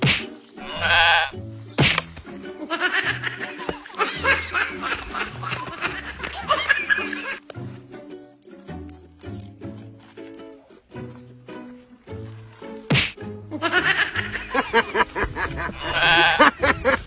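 A goat bleats repeatedly, close and loud, in long wavering cries separated by short gaps, with bursts of human laughter mixed in between the calls.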